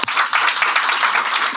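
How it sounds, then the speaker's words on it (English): An audience at a tech trends debate event claps, a dense, even patter of many hands sustained for a second and a half. "Let's clap for that one."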